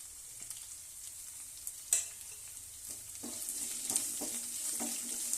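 Potatoes fry in a pan with crushed garlic and curry leaves, giving a steady sizzle broken by stirring scrapes and a few sharp spoon knocks, close up with no voices.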